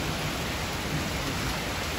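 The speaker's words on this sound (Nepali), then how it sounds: "असिना पऱ्यो गाइज, त्यस्तो ठुलो त पऱ्यो होइन." Small hail and rain fall steadily in a continuous, even wash of hiss that holds for the whole stretch with no voices.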